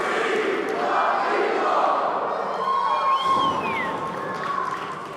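A pro wrestling crowd roars and cheers for Jack Swagger, also known as Jake Hager, during a TJ Marconi match: a sustained, dense arena din with whistles and yells rising over it.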